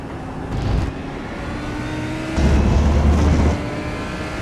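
GT3 race cars running nose to tail at Okayama in the iRacing video game, a steady engine drone with two louder swells as cars pass close by, with no talk.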